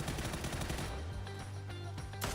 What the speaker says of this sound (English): More gunshots